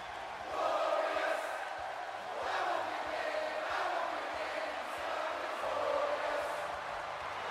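Arena crowd cheering in the WWE 2K18 wrestling game during a SmackDown Live match featuring Bobby Roode, a steady roaring din that swells in waves with no clear voices on top.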